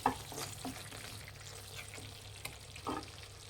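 Egg curry masala with a pinch of kasuri methi is stirred in a pan, soft scraping strokes over a faint low sizzle, quiet and close with no talking.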